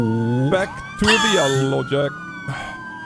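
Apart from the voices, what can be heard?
police car siren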